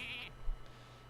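A brief sheep bleat from a Polymorph card effect in the Hearthstone video game, heard once early as a short, fairly loud game sound over quiet background music.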